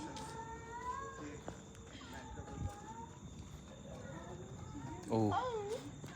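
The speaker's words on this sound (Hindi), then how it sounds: "ये बिल्ली रो रही है।" A cat gives a plaintive, wavering meow near the end, over a noisy outdoor street background in Thamel, Nepal, with faint chirps and murmuring voices.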